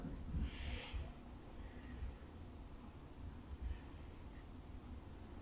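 Slow, deep breaths during a seated hip stretch, a soft airy exhale near the start and fainter breathing after, quiet and close with no talking.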